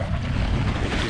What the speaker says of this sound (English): swells coming through that are trying to push over the bow of the boat, right here.